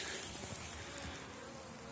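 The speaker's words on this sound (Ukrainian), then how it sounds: "Бджоли літають, несуть обножку." Honey bees fly around beehives at an apiary on a sunny day, giving a faint, steady buzzing hum with a soft outdoor hiss and no voices.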